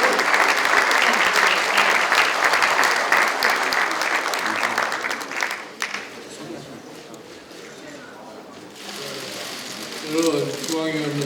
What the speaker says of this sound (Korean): 여러분 힘찬 박수로 맞아주시기 바랍니다